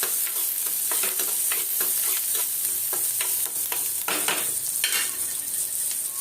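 Onion roasts in a pan under a bright, constant sizzle, broken by repeated scraping strokes of a stirring spoon, close and loud.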